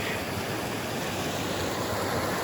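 A mountain creek on the Pacific Crest Trail, at a spot where a bridge has washed out, rushes steadily in a dense, loud, unbroken roar with no voices.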